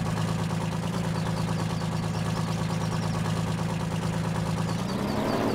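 An Oliver 2255 tractor engine idles in Farming Simulator 19, a steady, loud low rumble with an even throb that shifts slightly in pitch near the end.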